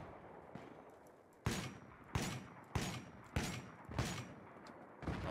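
Shotgun blasts loaded with buckshot ring out in a Battlefield game, six sharp booming shots spaced roughly half a second apart, each with a short decaying tail over low ambient battle noise.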